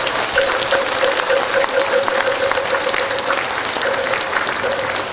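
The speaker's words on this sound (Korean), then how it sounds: "큰 박수 좀 한번 보내주십시오" Steady, dense applause from a large audience at a Buddhist ceremony, loud and sustained throughout, with a faint held tone running underneath.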